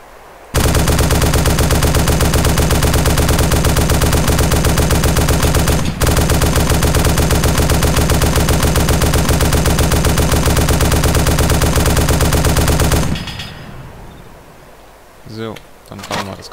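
Sustained automatic fire from a mounted machine gun in the video game DayZ Epoch, a loud continuous stream of rapid shots lasting about twelve seconds with one brief break, then a sudden stop followed by faint clicks.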